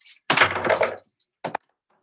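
A heavy thunk of a resistance band anchor against the top of a door, followed a moment later by a shorter knock, two separate hard impacts with silence between.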